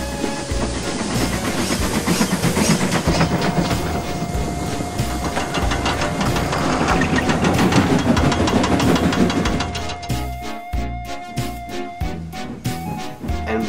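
A steam engine hauling ballast wagons rumbles and clanks steadily with heavy mechanical chugging and rattling wagons, loud and close, easing into a rhythmic knocking toward the end.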